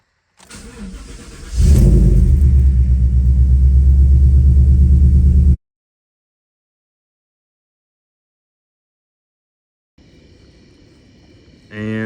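A race truck's engine starts and idles loudly with a steady, heavy rumble for a few seconds, then cuts off into silence before a fainter engine sound returns, while the truck is being loaded onto a trailer.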